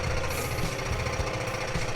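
A metal washer being cut to shape for a bottle opener gives off a loud, continuous rattling grind of a power tool, close and unbroken throughout.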